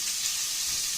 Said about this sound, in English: So I'm going to drop my turnips back in here.